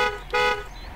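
A truck horn in the video game SpinTires gives two short, bright toots in quick succession, the second one longer, heard clearly with no one talking.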